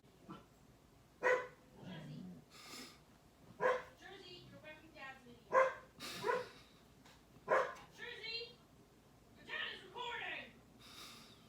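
Dog barks several times in short bursts, fairly close, mixed with talking in a room.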